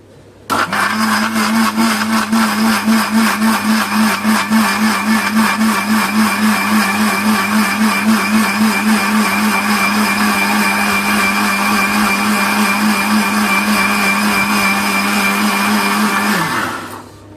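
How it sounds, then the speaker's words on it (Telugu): A blender whirs loudly and steadily for about sixteen seconds mixing banana juice, starting and stopping abruptly, with no talking. "ఇవన్నీ వేసుకున్న తర్వాత మిక్సీ పట్టేసుకోవడమే"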